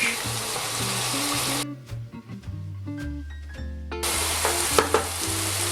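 Loud sizzling and crackling of onions in a frying pan, briefly interrupted by stirring and clinking, then the hiss returns at full strength.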